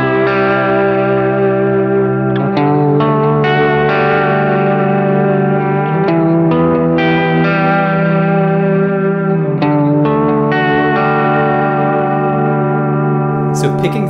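An electric guitar picks through the notes of a chord with a wavering vibrato effect and added echo. The notes are steady and overlapping, and the sound is loud and continuous throughout.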